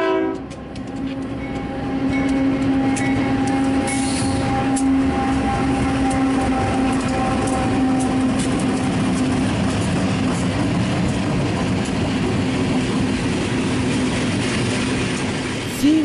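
A small manifest freight train rolls steadily past nearby, a continuous clattering rumble of wheels and cars with a faint sustained horn-like tone.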